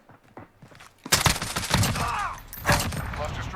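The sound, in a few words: VKS rifle full-auto gunfire, Call of Duty Modern Warfare video game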